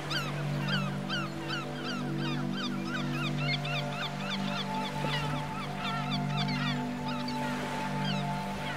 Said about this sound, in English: you can hear the song of the birds